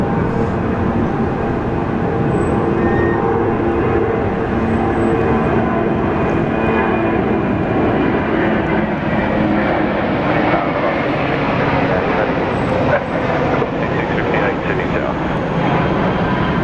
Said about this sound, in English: Qantas 7, runway 34 left, cleared for takeoff